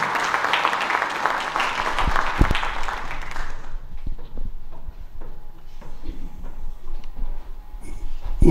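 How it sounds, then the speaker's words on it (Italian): An audience applauds at an evening poetry event honoring Franco Costabile in Lamezia Terme, a dense burst of clapping for about four seconds that thins to scattered claps and quiet room noise. "Facciamo un applauso gentilmente."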